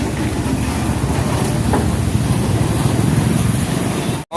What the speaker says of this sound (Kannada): ಈಗ ಆ ಗಾಡಿಗೂ ಹೊಡಿತಾ ಇದ್ದಾರೆ ನೀರು